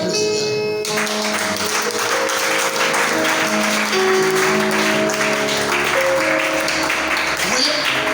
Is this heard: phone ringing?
no